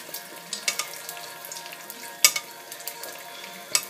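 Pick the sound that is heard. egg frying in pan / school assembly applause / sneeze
egg frying in pan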